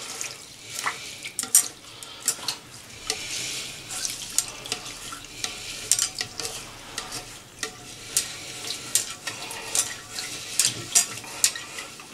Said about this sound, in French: On va nettoyer le riz, enlever un peu l'amidon qu'il y a sur le riz.